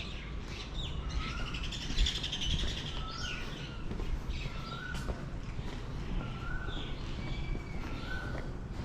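Birds chirp and tweet repeatedly over a steady outdoor background in Ratchaburi, Thailand, with short rising whistled calls recurring every second or so at moderate distance.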